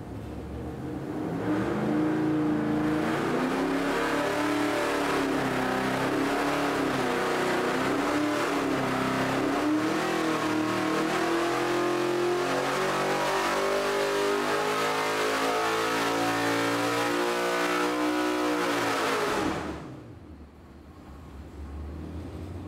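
A car engine revs hard and steadily on a dyno while running VP V2 ethanol blend fuel, a loud sustained pull with rising pitch that cuts off sharply near the end.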